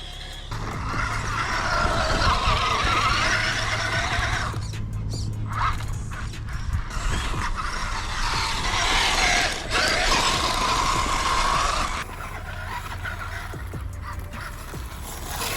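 Vanquish H10 Optic RC trail buggy running flat out on a 3S LiPo pack in a park, a loud continuous high motor whine with gritty tire and terrain noise that drops briefly midway, then settles lower.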